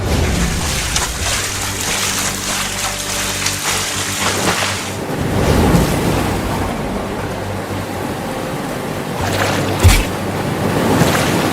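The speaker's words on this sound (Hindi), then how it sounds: "अभी भी बारिश बहुत तेज हो रही है।" Heavy rain and rushing floodwater in a cartoon, a constant loud wash of water noise with a steady low rumble, continuing throughout with no voices.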